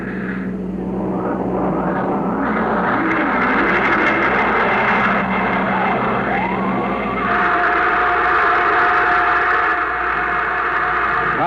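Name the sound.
rocket engine blast in a radio drama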